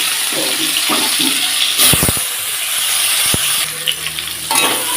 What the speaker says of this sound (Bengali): এদিকে তেলটাও গরম হয়ে এসছে আলুগুলো দিয়ে দেবো